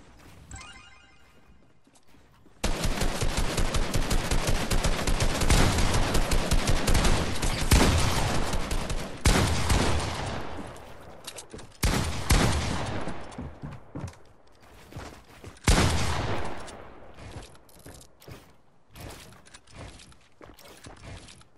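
Rapid automatic gunfire from a shooter video game, with a dense loud burst lasting several seconds after a quiet start, then shorter broken volleys and single shots trailing off toward the end.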